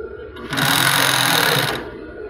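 A two-needle sewing machine runs in one steady burst for about a second, stitching bias binding, its rapid mechanical whir starting and stopping cleanly with no talk over it.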